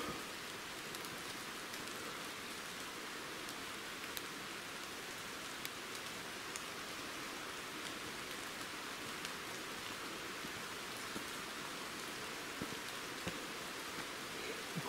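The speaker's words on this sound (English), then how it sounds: "Yep, still raining." Steady rain falls through woodland above a river, a constant hiss of drops pattering on leaves and ground, with no voices.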